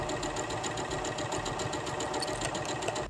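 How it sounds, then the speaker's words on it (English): A sewing machine stitches fabric dress straps closed with a fast, even, close mechanical chatter that runs steadily without pause. "now I'm going to sew them closed"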